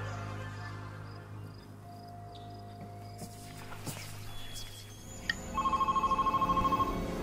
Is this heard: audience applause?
no